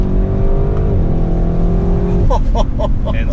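Audi RS6 Avant accelerating hard, with a loud, steady engine drone that rises in pitch. Two quick gear-change drops come near the end, heard from inside the car.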